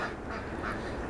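Ducks quacking in a snowy farmyard pen, a steady murmur of calls close by at moderate level, with no voices over them.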